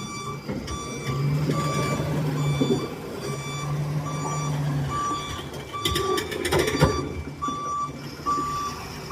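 A truck hauling large granite stones backs up with a steady, evenly spaced reversing beep. Its engine rumbles low underneath, and a brief clatter comes near the end.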